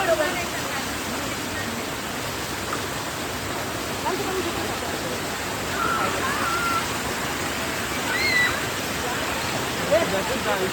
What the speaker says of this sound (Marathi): धबधब्याला आपलं पाणी आहे